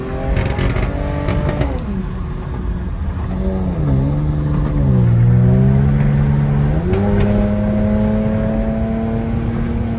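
A Cadillac with a straight-piped exhaust revs loudly up close. The engine drone rises and falls through rough, throaty swells and keeps a continuous heavy rumble between revs.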